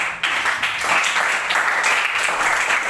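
A room full of students claps together after a classroom session, loud and close, with dense, steady applause lasting several seconds without a break.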